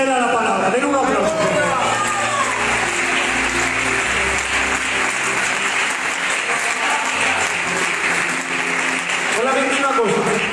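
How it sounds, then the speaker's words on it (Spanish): Applause from a church congregation, a sustained wash of clapping with voices and music tones running beneath it throughout. "Esta era la palabra. Den un aplauso."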